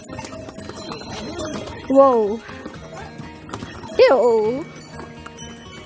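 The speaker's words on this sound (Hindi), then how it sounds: "घोड़ों का काफिला जाता हुआ, घोड़ों का काफिला आता हुआ, खाली घोड़े आते हुए, भरे हुए घोड़े जाते हुए" A horse caravan travels along the Kedarnath trekking path in India. Two clear neighs stand out over low, steady background activity, and a voice briefly calls out.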